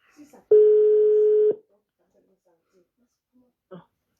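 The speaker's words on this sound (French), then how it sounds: "ça sonne chez ma mère" A telephone ringback heard on a call to the other end: a single steady electronic tone lasting about a second, then near silence with faint small sounds, and one short burst near the end.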